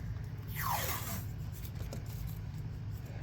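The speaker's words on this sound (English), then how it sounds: "So I'm gonna tape it up with some washi tape." Old washi tape peels off its roll with one quick zipping rip and is pressed down onto a mixed-media piece, followed by faint rubbing, soft and close in a quiet room.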